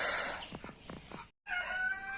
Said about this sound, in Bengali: ওই জায়গায় হাঁসগুলা না চিল্লাপাল্লা করতেছে